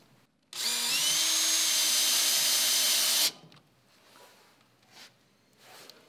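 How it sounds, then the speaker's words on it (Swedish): Cordless drill fitted with a bit holder and bit drives in a screw, one loud steady whirring run of about three seconds that then stops, with a few faint handling sounds after. "Så skruvar jag in en skruve."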